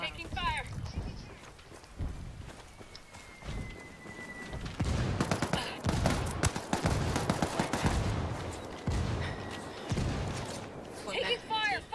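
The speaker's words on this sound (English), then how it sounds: "Taking fire, taking fire!" Rapid bursts of video game gunfire crack loudly throughout, with sporadic shots and fusillades close by, while players talk over the shooting.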